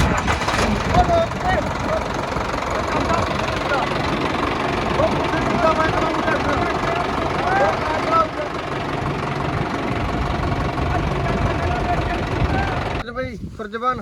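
A tractor engine starts, then rumbles and chugs steadily throughout, with people talking loudly over it.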